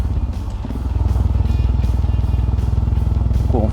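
A Royal Enfield Himalayan motorcycle cruising in third gear at about 40 km/h, its single-cylinder engine thumping in a steady, loud, fast pulsing rhythm up close, with wind rush over it.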